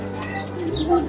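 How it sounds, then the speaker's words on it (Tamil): Soft, low cooing of a black and white pigeon close by at a mini zoo in Al Wakrah, Qatar, a brief throaty murmur with a faint chirp mixed in. "அழகான புறா."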